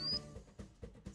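A micro:bit sound effect set to a sine waveform gives a brief, pure, faint electronic tone that lasts about a fifth of a second and rises slightly in pitch before fading into quiet background noise.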